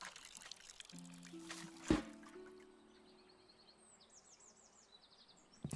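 Watering a plant in Botany Manor: a light pouring trickle of water, quiet and close, layered with soft sustained musical tones and a bright chime.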